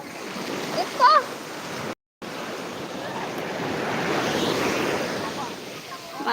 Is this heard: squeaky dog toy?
no